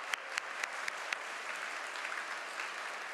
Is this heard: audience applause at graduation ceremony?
yes